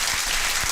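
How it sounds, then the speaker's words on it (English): A short burst of applause played as a sound effect on a show, steady clapping from a crowd lasting under a second. "Why are we clapping?"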